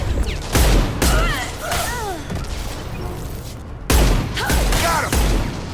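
Sci-fi gunfire from Mass Effect 2 during a firefight, with loud bursts of shots near the start and again near the end, and a dense battle din in between.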